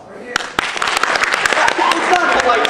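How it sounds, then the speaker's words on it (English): An audience claps and applauds, building from a few sharp individual claps into dense, fairly loud clapping that carries on to the end. "A round of applause."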